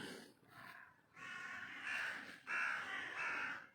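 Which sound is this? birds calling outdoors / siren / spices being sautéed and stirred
birds calling outdoors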